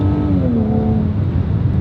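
A Lexus IS300 engine, likely heard from inside the cabin while downshifting, gives a loud steady drone whose pitch swells briefly and then settles lower, with no voices over it.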